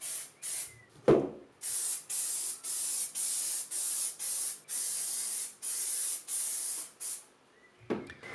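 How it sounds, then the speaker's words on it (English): Contact adhesive sprays onto a seat base and vinyl upholstery for a Fiat Ducato swivel seat, in about a dozen close, even hissing bursts separated by short pauses, with a light knock near the start and again at the end. "when you're spraying the contact adhesive, make sure you have a nice even coat on both surfaces"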